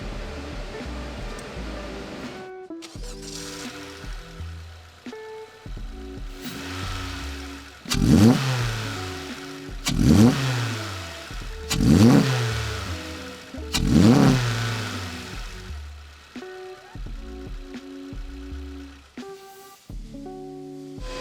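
A 10th-generation Honda Civic's 2.0L engine fitted with a PRL high-volume intake revs repeatedly, with several sharp throttle blips rising and falling between steadier idle stretches, close and loud.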